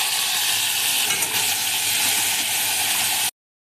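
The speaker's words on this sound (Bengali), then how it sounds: "এবার আমি টমেটোটাকে ভালো করে ভেজে নেব" Tomatoes fry in oil with mustard seeds, giving a loud, dense, continuous sizzle up close that runs steadily before cutting off abruptly near the end.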